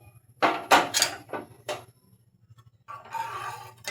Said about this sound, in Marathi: गॅस ऑन करायचा